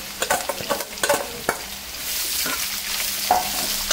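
Onions going into hot oil for a Kerala-style beef fry: a run of sharp scraping stirs at first, then a continuous even sizzle with a few more clinks of the spoon, close and alone without speech.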